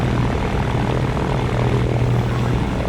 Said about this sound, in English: I'm drag racing a twin plane down here on the taxiway